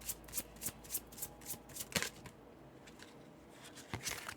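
An oracle card deck is shuffled by hand with a series of quick, close riffling flicks in an irregular rhythm, a short pause in the middle, then a few more; no talking.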